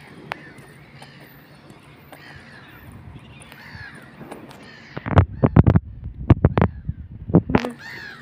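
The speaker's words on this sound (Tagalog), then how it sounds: "Grabe yung mga ibon nagliliparan." Sharp, loud crow calls burst out in a cluster over the last few seconds as birds fly around, caw-like cries following a quieter stretch of faint background noise in Finland.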